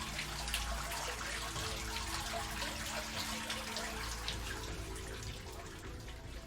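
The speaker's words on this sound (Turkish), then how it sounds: "Leyla, musluğu açtığında şakır şakır suyun aktığı günleri hatırlıyordu." Water gushes steadily from an opened tap, a continuous broadband rush with splashing texture, fairly close and unbroken throughout, with no talk.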